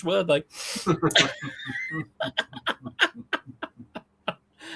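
A single sharp sneeze bursts out early and briefly, close by, in the middle of a man's ongoing speech in a small indoor gathering.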